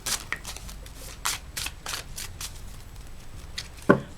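Tarot advice cards being shuffled by hand, a run of soft papery riffles and flicks that come in quick bursts, ending with a sharper snap near the close, with no voice over them.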